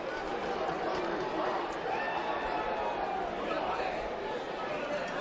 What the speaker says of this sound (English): Massive crowd here at Collegians for this grand final